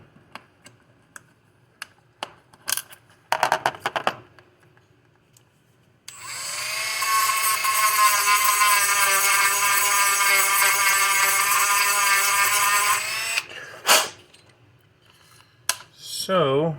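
A power sanding tool grinding down a rear hub part on an RC car build, a loud continuous whine lasting about seven seconds, preceded and followed by short bursts of handling and brief clicks.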